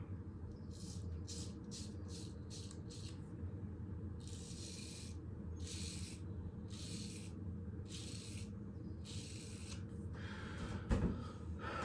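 Short rasping strokes of a stainless steel straight razor cutting through a day's stubble on a first pass, a quick run of brief scrapes followed by longer, steadier strokes, close and quiet, with a small knock near the end.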